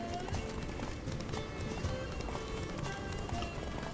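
Geralt's horse gallops in The Witcher 3: Wild Hunt, steady rhythmic hoofbeats running throughout at moderate loudness.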